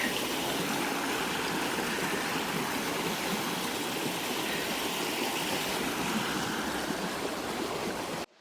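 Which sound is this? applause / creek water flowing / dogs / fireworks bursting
creek water flowing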